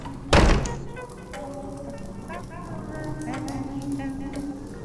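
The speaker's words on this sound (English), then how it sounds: "And shut the bleeding door!" A door slams shut with one loud thud near the start, followed by a murmur of voices and room sounds in a Christmas Carol style scene.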